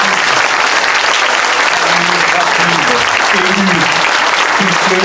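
Sustained applause from a municipal council audience in Levens, honoring the CCAS and municipal teams: dense, steady clapping from a room full of people throughout, with faint voices murmuring beneath.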